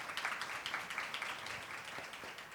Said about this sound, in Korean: 무엇보다 박수 소리가 힘차게 들리는 것 같습니다